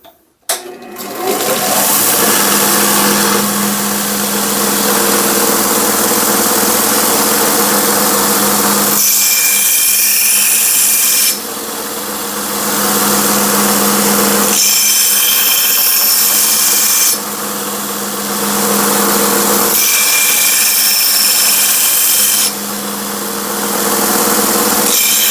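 Belt grinder sharpening an axe head, a loud motor whine with an abrasive belt hiss that rises in bursts as the axe is pressed to the belt and eases between passes.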